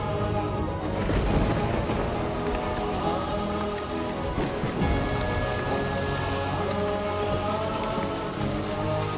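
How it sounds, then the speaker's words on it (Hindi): Heavy rain pours steadily onto surfaces, a dense hiss that stays loud and constant throughout, with a deep rumble low underneath. "कितनी तेज बारिश है आज।"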